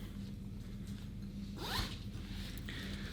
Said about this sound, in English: And then we've got this zipper on the front,